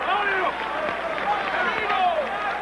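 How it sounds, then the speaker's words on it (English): A boxing crowd at a 1991 bout between Terry Norris and Jorge Fernando Castro roars and applauds in a sustained, distant wash while commentators talk over it. "And the crowd are really appreciating this."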